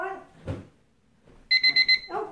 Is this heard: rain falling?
no